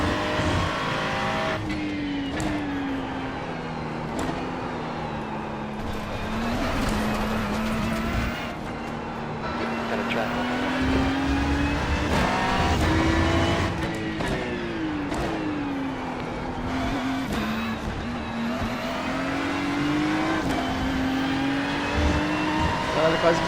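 McLaren race car in a video game, engine droning and revving steadily with rising and falling pitch throughout, loud and continuous, with someone talking over it.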